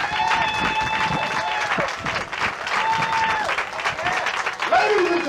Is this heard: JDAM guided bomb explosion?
no